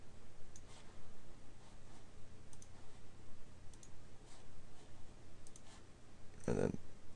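A computer mouse clicks while colours are picked in a blog layout editor: a few faint, sparse clicks over a low background hum, then one sharper, louder click near the end.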